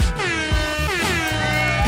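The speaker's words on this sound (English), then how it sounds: "Real life air horns." A real air horn lets out a loud, sustained, brassy blast with a wavering pitch that holds for nearly two seconds, alone and close, with no talk over it.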